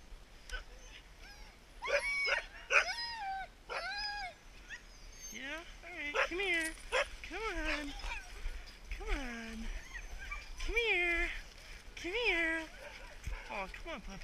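Alaskan husky outdoors at a Minnesota sledding setting, giving repeated high whines, yips and yelps in short bursts, fairly close, with a person talking nearby.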